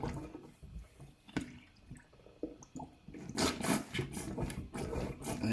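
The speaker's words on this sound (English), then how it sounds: "lift it slightly to the side to let some of the water drain into the plug" Water drains from a partly unblocked sink into the plug hole after plunging, with faint drips and gurgles early, then a louder run of rushing, bubbling water in the second half, close by.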